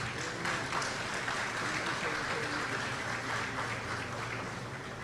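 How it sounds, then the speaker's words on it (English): An audience applauds at a Caribbean Broadcasting Union general assembly opening ceremony after two teenage pageant winners from Antigua and Barbuda are introduced, giving steady, dense clapping that lasts throughout. "Another round of applause, please."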